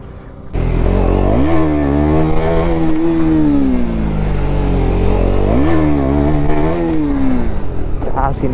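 Motorcycle on a road with its engine loud and close, revving up and down in two rising and falling sweeps over a steady rumble, with clattering mechanical noise throughout.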